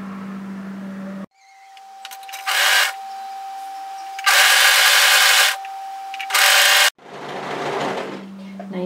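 Overlocker sewing a dress side seam from underarm to waistband: several bursts of loud, fast, steady motor stitching, separated by pauses and brief quieter handling noises, with a voice talking between runs.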